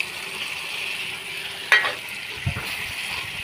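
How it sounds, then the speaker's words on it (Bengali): Chicken sausages go into spicy masala frying in oil, bringing a steady close sizzle broken by one sharp clink and a brief knock of the utensil, with no voices. "চিকেন সসেসগুলো দিয়ে দেবো।"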